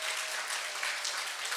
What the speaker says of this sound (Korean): 우리 수고하는 김삼현 목사님 한번 박수로 한번.